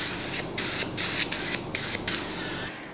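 A HydraFacial machine's vacuum draws suction across facial skin during a treatment, giving a soft, close, breathy hiss broken into uneven short pulses.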